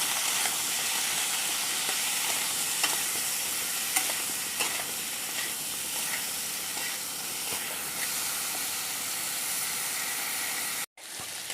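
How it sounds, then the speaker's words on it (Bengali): Pointed gourd pieces seasoned with salt and turmeric fry in a pan with a steady, loud sizzle and hiss, occasional scraping stirs cutting through, and no talking. "পটলটাকে এবার ভালো করে একটু ভেজে নেব"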